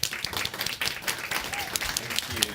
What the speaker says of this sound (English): Please give Kelly a round of applause.